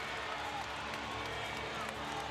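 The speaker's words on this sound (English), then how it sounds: "Listen to this crowd." Crowd noise at a high school boys' basketball state final between Pine Bluff and Benton: a dense, distant roar of cheering and clapping in an arena, with a commentator's voice faintly underneath.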